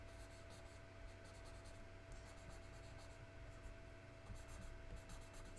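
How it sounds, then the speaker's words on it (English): A blending stump rubs steadily across paper while shading a lily pad drawing, a soft continuous scraping with a faint electrical hum behind it and no talk. "taking my blending stump and just going on the inside in places"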